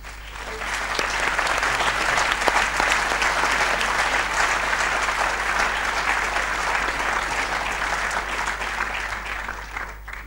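Sustained, full audience applause after a talk at a political conference, loud and dense for about ten seconds over a low steady hum, with no pause.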